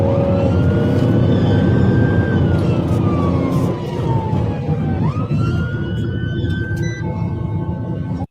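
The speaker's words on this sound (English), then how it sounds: "You can hear the sirens with that one" Police emergency sirens wail loudly and continuously, their pitch sweeping down and back up as a vehicle passes, over steady traffic noise.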